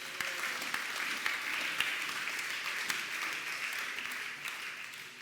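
A church congregation at the closing of a prophecy seminar applauds: a continuous wash of many hands clapping at some distance, fairly even in loudness and tapering slightly at the end.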